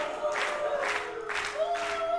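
Audience at a live GWF wrestling event cheering in loud rhythmic surges, with whoops rising and falling over a constant crowd roar and no clear talk.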